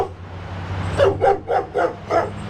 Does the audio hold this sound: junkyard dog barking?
yes